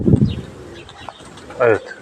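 A tufted grey pigeon kept in a flock of racing birds gives a low coo at the start, followed by quiet rustling and a short louder call near the end, with someone speaking nearby.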